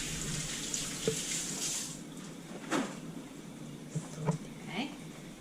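Tap water runs into a kitchen sink while hands are washed, a soft hiss with a few splashes and knocks, and voices murmur faintly underneath.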